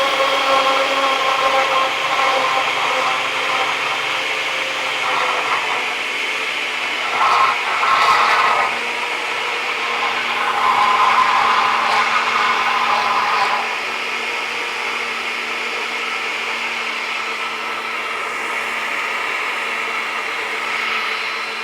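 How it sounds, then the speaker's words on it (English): A kitchen blender whirs steadily while it mixes batter for a Brazilian pudding cake. The motor runs continuously at close range, with a few louder surges partway through, and no one talks. "I just decided to use the blender because I've already been using it"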